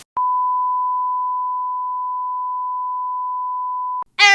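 A phone beep from an incoming call sounds as one steady, unbroken electronic tone lasting about four seconds, loud and close. It cuts off abruptly, and a voice starts speaking right after.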